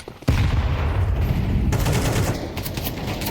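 Rapid rifle fire in Counter-Strike 2, a loud sustained burst of shots that starts abruptly and continues to the end with sharp cracks.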